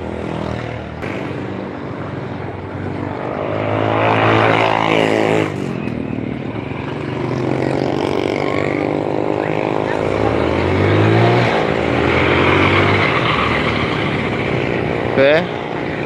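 A Yamaha Jupiter Z motorcycle engine with a rattling, knocking fault revs and drones nearby, its pitch rising and falling with throttle, while a voice talks over it.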